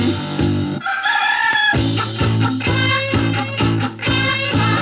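A novelty song carries rhythmic, repeated chicken clucking and squawking sounds over a bouncy musical backing.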